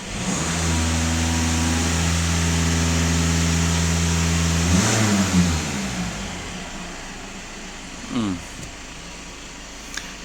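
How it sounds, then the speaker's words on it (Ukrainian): A Skoda Octavia engine holds at high revs around 3000 rpm with a steady droning hum, then winds down to a lower, settling idle with faint background noise. "перевірка лямдозонда дасть ще більші оберти, тобто під 3000"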